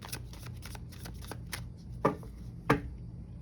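Tarot cards riffle in a quick run of soft flutters, then two sharper, louder riffle bursts as the deck is shuffled close up.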